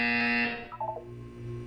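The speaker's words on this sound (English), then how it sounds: "You will hear a buzzer. When you hear the buzzer, look down at the floor." A loud electronic buzzer from the video game Portal 2 sounds for about half a second, followed by a short burst of quieter tones over a low hum.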